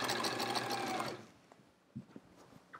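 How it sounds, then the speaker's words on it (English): Sewing machine stitching binding onto a hedgehog wall-hanging quilt, a steady close whirring run for about a second before it stops, leaving faint handling clicks and taps. "Oh, you sew the binding on the back,"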